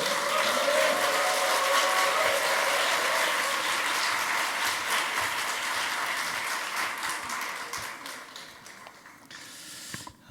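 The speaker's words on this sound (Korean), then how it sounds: "박수로 한번 환영해 주십시오." A church congregation at a Friday evening service applauds in welcome for a visiting preacher, a full, sustained clapping that thins and fades out near the end.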